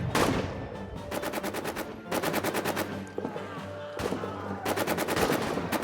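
Rapid machine-gun bursts and rifle shots crackle nonstop in the World War I trench game All Quiet in the Trenches, loud and dense with repeated volleys.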